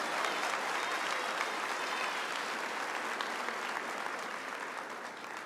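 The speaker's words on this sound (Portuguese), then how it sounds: "Pode aplaudir, pode aplaudir, pode aplaudir." A church congregation applauds during a sermon, a continuous even roar of clapping that eases slightly toward the end.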